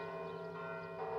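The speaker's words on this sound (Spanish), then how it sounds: "Sobre todo México se escuchan las campanas." The church bells of the Metropolitan Cathedral of Mexico ring as a steady, sustained metallic tone with long hum and overtones, fairly faint and continuous.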